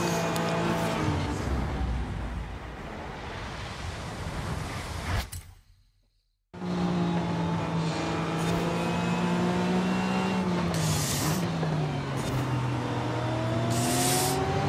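Porsche 935 race car engine in a racing video game, a loud sustained roar with rising and falling revs and gear shifts, cutting out briefly midway before resuming at full volume alone.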